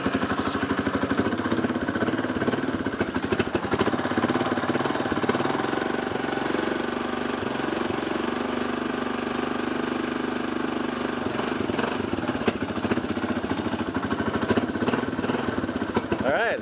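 A homemade snow plow's small engine runs steadily near and loud for the whole stretch, a continuous mechanical drone with uneven knocking pulses; no separate start-up crank is clear.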